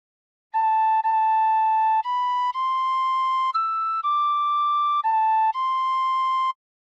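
Tin whistle playing the opening phrase of House of the Rising Sun: a sequence of sustained, clear, breathy-pure notes, each held about half a second to a second, stepping up and down in pitch, loud and alone with no talk.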